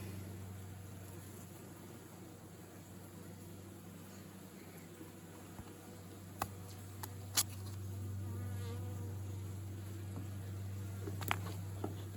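Honey bees buzz in a steady, close drone during a winter beehive inspection, while faint scraping and a few sharp clicks of hive tools on wooden top bars sound over it.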